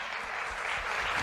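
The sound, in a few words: audience applause for the speakers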